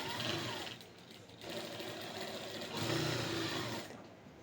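Sewing machine stitching blouse fabric, a steady close whirring hum that changes speed slightly in a few surges, running on its own without talking.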